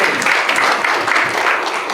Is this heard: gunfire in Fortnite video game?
no